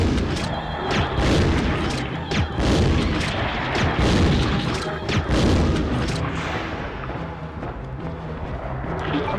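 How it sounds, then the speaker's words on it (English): Booming blasts from an anti-freak launcher fired at a monster in Resident Evil 2 (1998), several heavy thuds in quick succession over a dense, loud game soundscape with no talk. "Is there any reason for me not just to blast him with my anti-freak launcher?"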